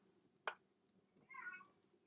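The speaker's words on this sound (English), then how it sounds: "Is that my cat?" A house cat meows indoors, a short sharp call followed by a softer drawn-out whine, faint and fairly close in an otherwise quiet room.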